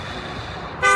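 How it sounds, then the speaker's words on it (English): A car horn toots briefly on a city street, a short loud honk arriving at the end over steady traffic noise. "People are honking at me."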